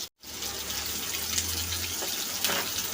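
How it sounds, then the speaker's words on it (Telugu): Onions fry in a pan with ginger garlic paste for a gongura curry with phool makhana, giving a steady, close, hissing sizzle that runs continuously with no talking. "చూసారు కదా, ఆనియన్స్ ఇలా ఫ్రై అవుతుండగానే"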